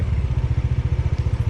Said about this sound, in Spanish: El sonido del ventilador de mi moto suena bastante fuerte.